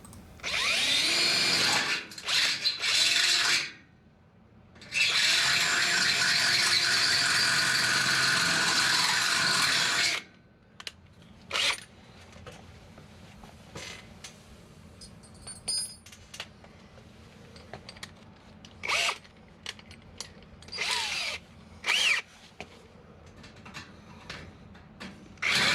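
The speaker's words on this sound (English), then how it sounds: "The pre-drilled holes in the braces served as a guide for drilling the 3/8 inch holes in the studs." A power drill boring 3/8 inch holes through wooden wall studs, guided by pre-drilled braces, in loud sustained bursts of a few seconds each, then quieter intermittent whirring and clatter.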